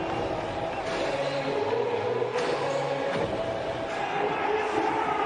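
Large stadium crowd at an India versus Pakistan T20 World Cup cricket match, a steady roaring murmur with swelling cheers and shouts, continuous and broad throughout.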